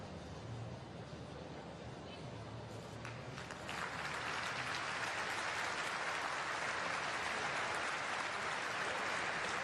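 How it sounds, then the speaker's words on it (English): A stadium crowd at a Germany vs Serbia women's World Cup qualifier applauds as an injured player is stretchered off, the clapping swelling into a broad, sustained roar partway through and holding steady to the end. "There's applause, at least, from the stands as she's taken off on the stretcher."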